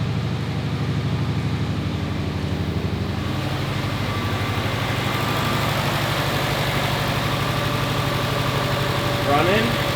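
A 2006 Subaru WRX engine, freshly fitted with a bigger turbo, idles steadily with a low, even rumble throughout, close and constant, with brief voices near the end.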